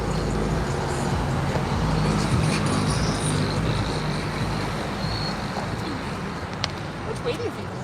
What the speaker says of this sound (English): There's also a lot of traffic up here, so you probably won't be able to hear me.